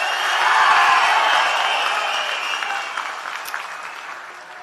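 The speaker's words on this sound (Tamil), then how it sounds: "இன்னமும் ஒரு கூச்சல் சத்தம் அடங்கின மாதிரியே எனக்கு தெரியல" A large crowd at a TVK political rally for Vijay in Tamil Nadu bursts into loud applause and cheering that swells early, then slowly fades over a few seconds.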